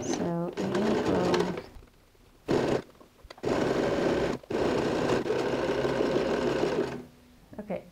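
A sewing machine runs in several sustained bursts with brief stops, edge stitching red thread along the lining of a quilted toiletry bag with pockets, close and loud, while a person talks in between.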